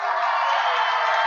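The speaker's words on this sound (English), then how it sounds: "Crowd making some noise" A stadium crowd at a football game makes a steady, loud roar of cheering and shouting that holds evenly through a brief moment.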